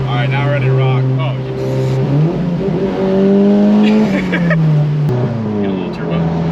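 A tuned Volkswagen MK7 with a turbocharged engine revs in a loud, steady drone whose pitch climbs and dips through the run, with people talking over it throughout.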